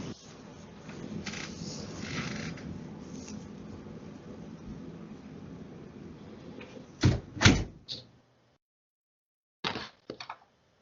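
A door closes amid a steady heater hum, giving a couple of sharp thuds followed by a lighter knock after a short pause, clear and fairly close in a quiet indoor room.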